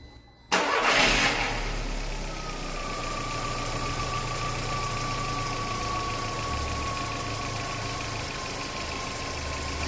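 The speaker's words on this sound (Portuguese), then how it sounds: "Vou ligar o carro e depois a gente continua aplicando com o carro ligado." Car engine cranks and catches after about half a second, with a loud burst of starting noise before settling into a steady idle with a faint whine, close by and without talk.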